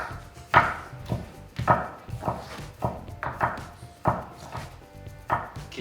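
Kimchi being chopped on a cutting board during a cooking challenge: a steady run of about ten crisp knife thunks, close and fairly loud, with no talking.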